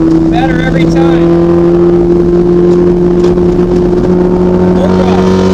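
A car engine held at full throttle while driving on the Sonoma track, a loud steady drone under steady road noise, with a voice talking over it.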